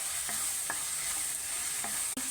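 Ginger garlic paste stirred in hot oil for paneer bhurji, a few quick scraping strokes over a soft, steady sizzle, close and brief.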